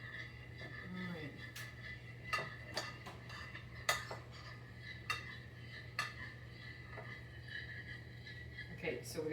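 Cornstarch stirred into cold seafood stock for shrimp étouffée, a spoon or whisk clinking against the side of a bowl in irregular taps over a steady kitchen hum.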